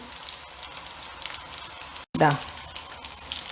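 Macaroni deep-fries in hot oil with a soft, steady crackling sizzle, fairly quiet, while a person briefly speaks partway through.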